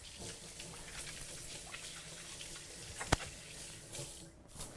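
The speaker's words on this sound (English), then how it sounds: "Just let me wash my hands quick." A kitchen faucet runs steadily while hands are washed beneath it, giving a soft, continuous splash with a single sharp tap near the end, faint and with no one speaking.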